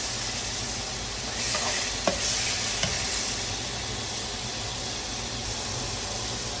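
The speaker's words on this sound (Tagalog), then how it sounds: "Habang nagme-melt ang ating butter, lagyan na natin ang garlic, ginger, and ang ating siling isang labuyo" Butter melts in a hot pan with a steady, close sizzle and soft bubbling, broken by a couple of brief clinks near the middle.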